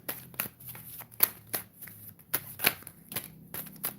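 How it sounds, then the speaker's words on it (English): Tarot cards are shuffled and thrown down in quick, soft, papery bursts, a dozen or so irregular riffles and slaps at close range in an otherwise quiet room. "We're gonna throw some more cards."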